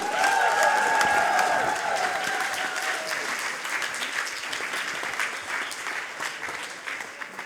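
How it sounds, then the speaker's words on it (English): An audience at a science slam evening claps loudly and steadily, the applause dense and sustained with some cheering, while a tonal musical sting fades out early on. "Big applause for Marwa Zainelabdeen."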